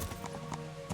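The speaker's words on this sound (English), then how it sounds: "Dang, that horse can jump." A horse gallops in Kingdom Come: Deliverance, its hooves striking in a quick, rhythmic clip-clop that sounds close and steady under a faint game ambience, with one louder hoof impact near the end.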